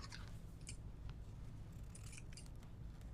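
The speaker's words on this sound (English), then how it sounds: "And then trim your ends." Scissors snipping the ribbon ends of a handmade bow, a few quick close cuts in a short burst against faint room hum, no talk.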